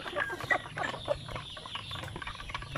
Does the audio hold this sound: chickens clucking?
yes